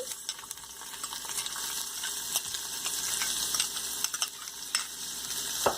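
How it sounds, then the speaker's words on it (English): Chopped onion sizzling and frying in heated ghee with cumin seeds, a steady close crackling hiss with occasional spoon stirs, continuous throughout with no talk. "We have to cook this onion till it becomes golden brown."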